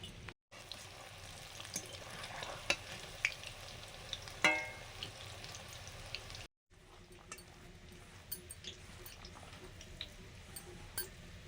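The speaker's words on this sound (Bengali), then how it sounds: "বড়াগুলো ভাজা হয়ে যাচ্ছে" Quiet, continuous bubbling sizzle of jackfruit seed and chana dal fritters frying in oil, with occasional light clicks and pops, a brief dropout midway, no speech.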